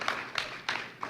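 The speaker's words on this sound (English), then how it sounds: "2 applause for your staff." A small audience at a school press conference claps for the staff, heard as three or four sharp, separated bursts of hand claps that are fairly close and moderately loud, with no talk over them.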